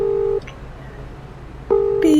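Cell phone dialing tones: a loud, steady electronic tone sounds at the start, then quiet, then the tone returns with a short higher beep close to the end.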